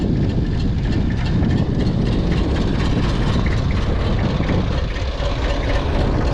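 A Mitsubishi BD2F diesel dozer, running for the first time in years, rumbles loud and steady at idle with a dense, continuous low clatter close by, and no talk.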